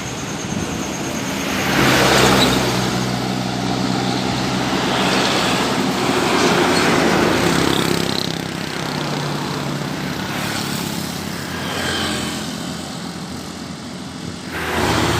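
A Fajar Rio Wisata bus bound for Dumai passes by, its loud engine swelling and fading as it goes, with broad road noise and no talk.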